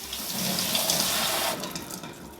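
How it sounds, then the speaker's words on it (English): Bulgur being washed under running tap water in a home kitchen, a steady close rush of flowing water with splashing that eases slightly toward the end, no voices. "We're gonna start by washing the bulgur."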